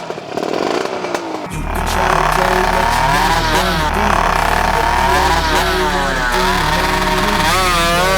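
Honda Dash motorcycle engine revving hard and launching from a stop, a loud, close, steady high-pitched two-stroke wail with rising revs after a quieter opening second.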